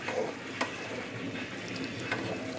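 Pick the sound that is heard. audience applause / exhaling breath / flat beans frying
flat beans frying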